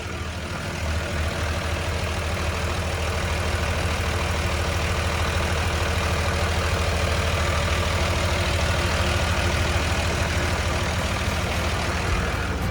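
Komatsu WA200-1 wheel loader with a six-cylinder engine running, a steady close idling diesel drone with even low rumble and constant hum, no talk.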